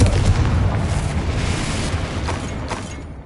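A fire spell cast in the video game Hogwarts Legacy erupts as a loud, sustained burst of roaring, crackling flame that fills the scene and slowly tapers off over a few seconds.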